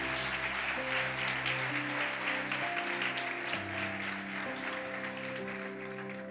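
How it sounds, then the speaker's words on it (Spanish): A church congregation claps loudly and continuously over held organ or keyboard chords, the applause dense and steady throughout with no voices standing out. "Denle un aplauso fuerte al Señor."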